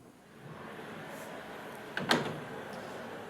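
Solid wooden panel doors in a high-end home listening room slide shut, a faint rolling rumble that ends in a soft knock and short rattle as they meet, in a quiet room.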